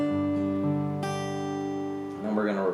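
Acoustic guitar fingerpicked pattern for a song, ringing open-string notes with a bright accent and a final high E, sustained and clear, played alone with no talking.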